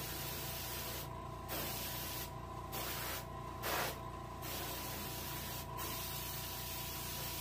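An airbrush or spray gun lays gloss top coat onto a reproduction rainbow trout, including inside the mouth, in five separate hissing bursts of about a second each over a steady background hum.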